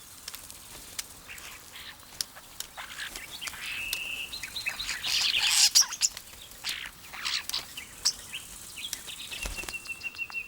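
Starlings give a busy mix of chirps, whistles and harsh squawks, some near and loud, others fainter, overlapping in a lively chatter with a few wing flutters.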